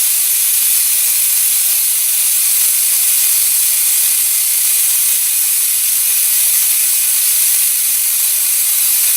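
Compressed air hisses continuously and loudly from the regulated outlet of a Foxhunter 3hp 90 litre compressor, a steady broadband rush with no change in level and no talking.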